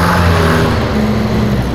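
A car pulling away under acceleration, a loud, close engine roar with a low droning tone that holds steady across the short stretch.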